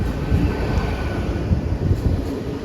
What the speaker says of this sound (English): here comes the Great Western Railway service to London Paddington from Great Malvern